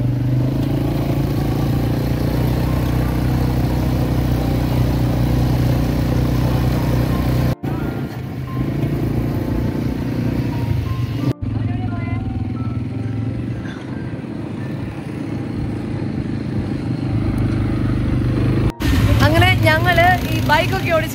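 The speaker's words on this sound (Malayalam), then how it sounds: "ഇതാ ബൈക്ക് ഓടിക്കാൻ വേണ്ടി പോവാണ്" Quad bikes on a Dubai desert safari, one red and one white, rumble with a steady low engine drone close by while people talk over them throughout.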